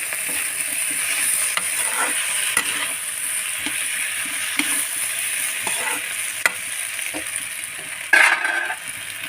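Steady loud sizzling of a tempering and vegetables stir-frying in a hot kadhai, with occasional scraping and stirring clicks of a spatula against the metal.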